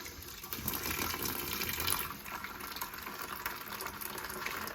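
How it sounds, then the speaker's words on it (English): Hot sparge water for homebrewing, at about 75 degrees, runs from a tea urn tap into a jug, giving a steady, close, continuous splashing pour with no talk. "I'm just going to fill this jug up."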